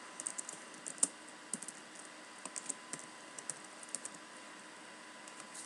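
Keys clack on a computer keyboard as a policy name is typed into the Websense configuration, with light irregular taps and a few louder strokes over a quiet room hum, no voices.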